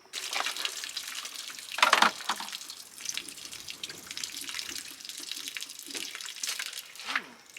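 Water runs from an RV faucet after the fresh water tank has been cleaned with bleach and flushed, a fairly quiet, continuous splashing stream with a brief louder gush near the start.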